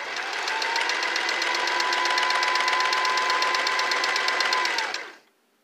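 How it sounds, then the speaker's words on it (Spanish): Singer Simple 3337 sewing machine running a straight stitch, a steady fast mechanical whirring and ticking hum held close and even for about five seconds before stopping abruptly. "Ahora vamos a proceder a practicar esa costura recta."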